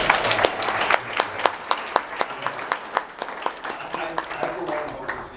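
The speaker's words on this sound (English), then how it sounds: "big round of applause for that." An audience at the Son of Monsterpalooza horror convention in Burbank, California, breaks into applause, a dense burst of clapping with distinct sharp claps that tapers off over several seconds.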